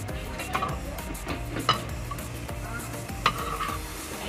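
Chicken liver and gizzard adobo with a splash of vinegar simmers in a pan, a constant bubbling sizzle with occasional stirring clicks and scrapes, close and steady throughout.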